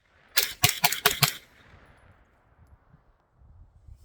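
A Springfield Armory Saint Victor 9mm carbine fired outdoors in cold weather: a quick burst of about six loud, sharp shots in fast succession, then quiet open-air decay.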